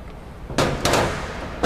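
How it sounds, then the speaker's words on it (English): Hammer and punch striking a collet jam nut on a truck wedge brake air cylinder, two or three sharp metallic hits close by with a short ringing decay. "Just take your hammer and punch and loosen that collet nut off."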